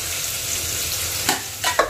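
Onion and tomato frying in a pan, a steady close sizzle with a few sharp stirring scrapes near the end and no talk.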